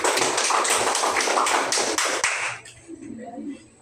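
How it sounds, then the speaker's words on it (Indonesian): Schoolchildren in a classroom clap their hands in a quick rhythmic pattern of about eight bursts, loud and close, then fall quiet with faint murmuring voices. "tepuk tangan dulu"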